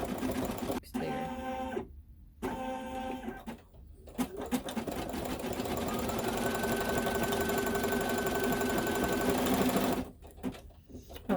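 Sewing machine satin-stitching bug legs on a haunted house quilt block, rapid mechanical clatter in short bursts separated by pauses, then a long steady run before stopping, close and clear with no talk.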